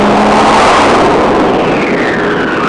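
Triumph Trident 660 motorcycle engine revving while being ridden, a loud, continuous roar rising in pitch under heavy wind rush, close and unbroken for the full stretch.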